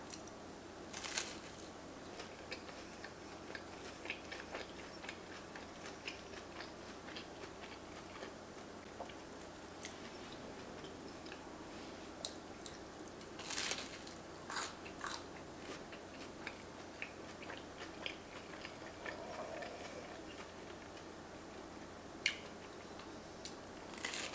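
Quiet, crisp crunching from bites into a toasted grilled cheese sandwich, with a few sharper crackles standing out against soft chewing.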